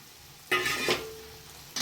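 Fried potato and chicken sautéing in spice masala in a pan for a jackfruit keema dish: a sudden sizzle as the pieces go in, a brief stirring scrape, then another short hiss of frying.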